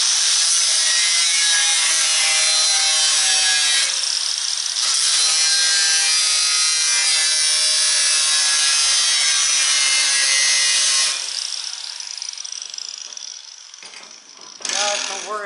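Rusted metal being cut out of the body of a 1968 M715 Jeep, a loud, steady, harsh cutting whine that runs nearly unbroken for about eleven seconds, then drops off into quieter scraping and brief bursts.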